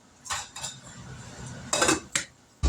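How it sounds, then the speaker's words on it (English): An Instant Pot lid is set onto the metal pot, giving several short clinks and clatters, two quick taps at first, then a louder metallic rattle and a final knock, quiet and close. "Put a lid on it"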